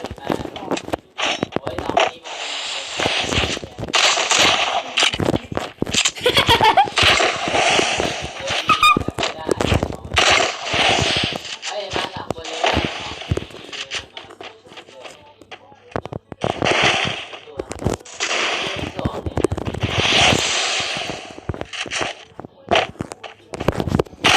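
Rapid bursts of gunfire in a shooter video game, sharp cracks and pops in irregular clusters throughout, with excited voices talking over the shooting.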